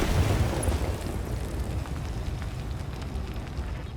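A tank blowing up in a BattleTech battle, a booming blast at the start that settles into a steady low rumble of fire and debris.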